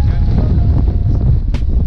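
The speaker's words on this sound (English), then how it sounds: "Windy right now." Wind roars and buffets the microphone beside a river during late-winter fishing for stripers and white perch, a loud, continuous rush with no break.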